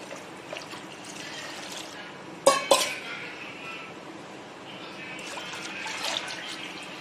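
Water pours steadily into a metal pot, with a sharp clank of metal partway through and a continuous splashing rush throughout.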